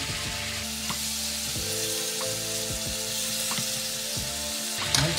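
Broad beans and cabbage fry in a hot pan, giving a steady, close sizzle with occasional stirring scrapes and no speech.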